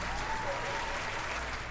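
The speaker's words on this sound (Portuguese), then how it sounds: "Palmas pra eles." A small group claps steadily in a continuous, even wash of applause that holds at a moderate level throughout.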